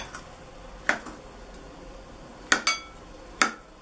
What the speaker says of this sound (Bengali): কলাগুলোকে আমি ছুরি দিয়ে কুচি কুচি করে নেব